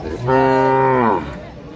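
A single loud, drawn-out cow moo, close by at a livestock market in Georai, lasting about a second against faint background noise.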